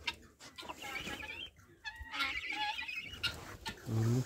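Guinea fowl calling in a farmyard, repeated harsh, rhythmic cackling cries from several birds, fairly close and continuous, with brief gaps between bursts.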